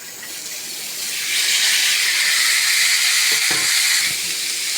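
Cut cucumber tossed into a hot pan for a Bengali shukto, giving a loud, steady hissing sizzle that swells and holds close by.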